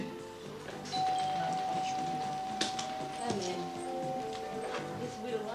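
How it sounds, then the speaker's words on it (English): A single bell rings out, calling workers in to be inspected by clients, a sustained steady tone lasting several seconds beneath background murmur and talk. "That was the bell that normally calls you in there to be inspected by the clients."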